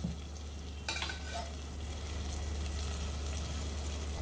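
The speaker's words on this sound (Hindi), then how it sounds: "अब इसे हम भूनेंगे जब तक कि हमारे टमाटर का पानी नहीं सूख जाता और तेल छोड़ने ना लगे तब तक।" Tomatoes sauté and sizzle in hot oil in a pan for Sindhi puri bhaji, a steady frying hiss with a brief scrape of stirring near the start, close and unbroken by speech.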